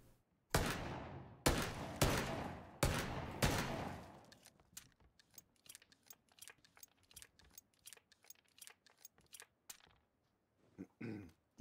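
Gunfire in PlayerUnknown's Battlegrounds rings out on a big map with buildings and open ground: four loud, close blasts in steady succession, then a long run of sharper, quieter shots crackling at irregular intervals.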